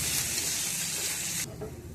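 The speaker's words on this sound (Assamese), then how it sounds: "মই এতিয়া এই চেৱাইখিনি দি দিম। এইখিনি ভালকৈ ভাজিব লাগিব" Dry vermicelli fries in a pan (a karahi) with a loud, steady sizzle and hiss that drops off sharply partway through, leaving a quieter crackle, with no talking.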